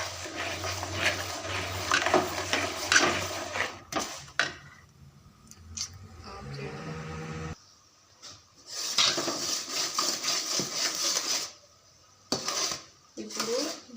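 Jaggery being stirred in a pan as it melts, with a spoon repeatedly scraping and clinking against the metal in bursts separated by short pauses, close and fairly loud.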